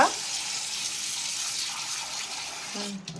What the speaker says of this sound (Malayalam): ഇനി കപ്പയിൽ വെള്ളം ഒഴിക്കുക